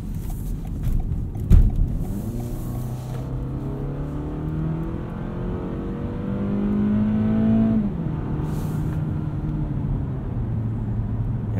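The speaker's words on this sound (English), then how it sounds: "once you start to hustle at this Camry, this 4-cylinder L4 does sound a little bit strained" A 2020 Toyota Camry AWD XLE with its 2.5 liter four-cylinder engine accelerating hard from the cabin, a droning engine note rising and falling in pitch through gear changes over road noise, with a sharp knock early on.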